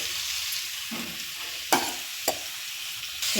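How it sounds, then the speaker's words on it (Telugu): Grated raw mango added to a pan of frying green chili paste for mango pulihora, giving a steady broadband sizzle with a few sharp stirring clatters close by; no talking. "ఇప్పుడు మనం వీటిలో తురిమి పెట్టుకున్న మామిడికాయ తురిమి వేసుకుందాం"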